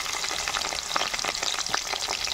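Chopped red onions sizzle steadily in hot oil, a dense, close crackling hiss with scattered sharper pops and no voices, in a homestyle crab curry preparation.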